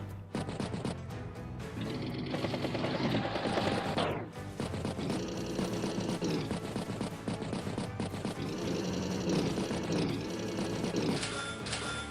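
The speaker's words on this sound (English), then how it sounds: "Medium tank strikes medium tank." Tank gunfire attack in the Advance Wars video game: dense game music and rapid repeated firing bursts with crashing impacts, continuous and busy for about twelve seconds.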